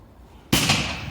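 A Zena Nietjes 6007 firecracker goes off with a single sudden, loud bang after a quiet moment, close by, followed by a brief fading rumble.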